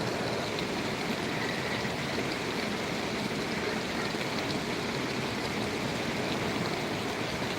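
An indoor water fountain at a Saudi airport gives a continuous, even rush of falling and splashing water, heard close and steady without any talk.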